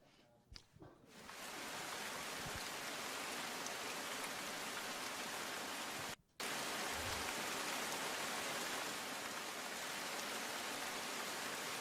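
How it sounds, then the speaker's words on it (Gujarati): Steady heavy rain pours down in Dang district, Gujarat, in a dense, even hiss, broken only by a brief cut in the middle. "અલગ અલગ વિસ્તારમાં સારો વરસાદ વરસી રહ્યો છે"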